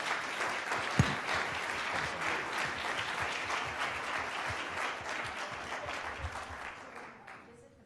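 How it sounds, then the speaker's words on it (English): A crowd claps steadily in sustained applause at a university provost candidate presentation, dense and even, fading out toward the end. "please give him a round of applause"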